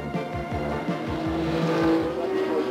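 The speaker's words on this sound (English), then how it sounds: "stock car racing of full-size cars with eight-cylinder engines is the highlight for Americans" Full-size stock cars with eight-cylinder engines race at Daytona Beach, several engines roaring and whining downward in pitch as they sweep past in quick succession, loud and close.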